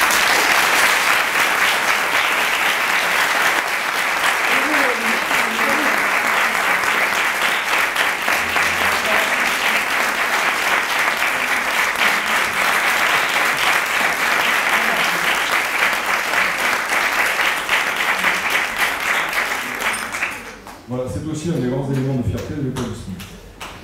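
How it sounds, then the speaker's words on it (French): A large audience at a diploma ceremony applauds steadily and loudly for about twenty seconds, the clapping fading near the end as a speaker's voice comes in. "vous demander de les applaudir pour commencer"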